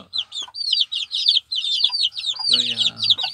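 Hens and roosters cluck and chirp in dense, overlapping calls up close, with a deeper, throatier cackle swelling near the end from a flock of poultry of wheaten and black colouring.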